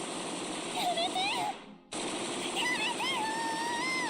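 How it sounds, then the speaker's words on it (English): Sustained rapid gunfire in a Steins;Gate video game scene, a dense continuous barrage with high screaming voices over it, cut off by a brief silence midway before the firing resumes. "as the gunfire continues."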